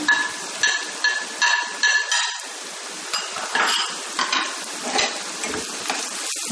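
Turmeric and coriander powder fry with prawns in a pan, a soft sizzle under repeated scraping and clinking of a spatula against the pan in an uneven stirring rhythm.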